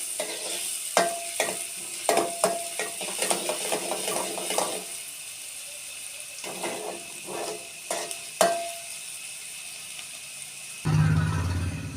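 Green onions and onions sautéing in hot oil, a steady sizzle with bursts of stirring and scraping in the pan, close and fairly loud, ending in a brief louder hiss.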